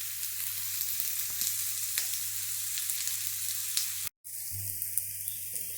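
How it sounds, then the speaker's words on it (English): Onions and garlic browning in a pan for a vegan Hungarian goulash with chickpeas, a steady close sizzle with faint stirring scrapes, broken by a brief dropout before the frying resumes. "So onions and garlic are browned"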